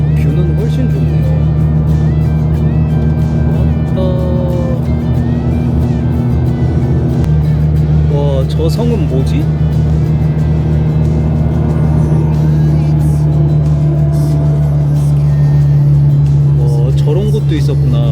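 A bus drives along a road near Podgorica, Montenegro, with a loud, steady engine drone and road rumble heard from inside. Passengers talk over it throughout.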